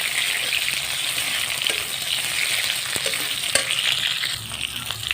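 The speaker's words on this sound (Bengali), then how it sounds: "এগুলো ভাজা হয়ে গেছে, তুলে নেব" Soya chunks frying in oil, a loud continuous sizzle broken by occasional clacks of stirring, with no voices over it.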